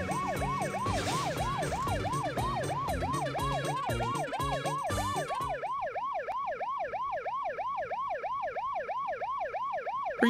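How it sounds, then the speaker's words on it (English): A loud police siren from the Test Drive 6 racing game wails in a fast, steady repeating yelp, with a busier layer of game sound under it for the first half before the siren carries on alone. "the siren is kinda loud though"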